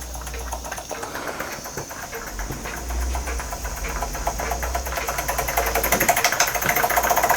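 Jensen 25 model steam engine running on residual boiler pressure, a steady rhythmic chuffing hum with a low drone, close and continuous, gradually getting a bit louder.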